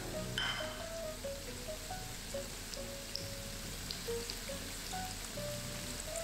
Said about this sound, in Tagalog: Habang piniprito natin itong tokwa, maganda rin na balibalikta rin natin